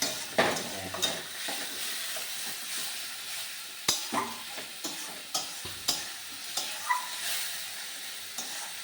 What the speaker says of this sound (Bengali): ভালো করে ভাজা ভাজা করে নিই